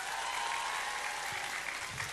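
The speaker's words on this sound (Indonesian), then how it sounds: "Tepuk tangan untuk Zahir Mania." Dense, steady clapping from a large audience at a gathering, continuous and evenly loud throughout the short stretch, with no distinct voices.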